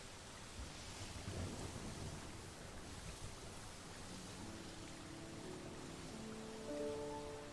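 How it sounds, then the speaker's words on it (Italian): A thunderstorm with rain in the Pokémon Violet video game: steady broadband hiss of falling rain with low rumbling swells throughout, faint and continuous, with no talking. "Non sbaglio, è iniziata una tempesta."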